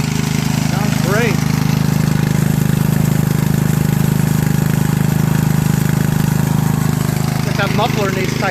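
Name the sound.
Craftsman 13.5HP riding lawn mower engine running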